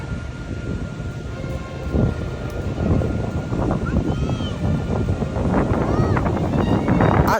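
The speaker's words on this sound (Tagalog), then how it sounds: "ini-enjoy ko lang yung lakas ng simoy ng hangin, tapos pinapakinggan ko yung hampas ng alon ng dagat." Strong wind buffets the microphone at a seaside baywalk in Lingayen, with waves crashing on the shore beneath steady, loud roaring gusts and some faint background activity.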